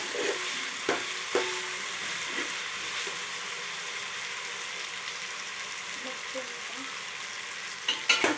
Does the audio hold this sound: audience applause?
no